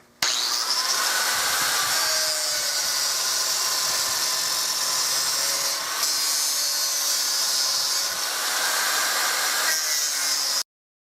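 A power tool grinds a walnut gun stock for a Remington 788 rifle, making a loud, steady, high-pitched whine. It runs continuously for about ten seconds with slight dips, then cuts off abruptly, and no one speaks.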